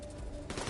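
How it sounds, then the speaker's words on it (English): A gun in the Division 2 video game fires a headshot round that triggers a massive explosion, a short dense blast of gunfire noise with a second burst right after, loud and close. "if you get a headshot, it does a massive explosion that does bleed damage"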